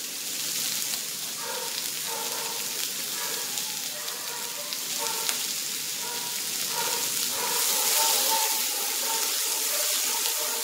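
Grated carrots sizzle and fry in a pan for a pea, carrot and onion kachori filling, with a continuous crackling hiss that is fairly close and grows a little louder toward the end, with no talking.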